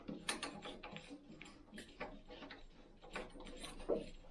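Threaded retaining ring being tightened by hand as a spool gun is hooked up to a Yeswelder LBT-150 welder, giving a soft series of small ratcheting clicks and scrapes close by.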